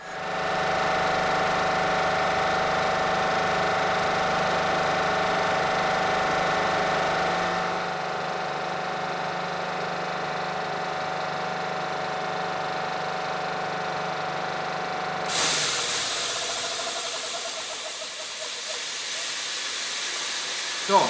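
A Bauer Mariner compressor fills a bottle through its opened filling valve, giving a steady mechanical drone with a broad hiss that shifts in tone partway through, then turns to a brighter, harsher hiss near the end.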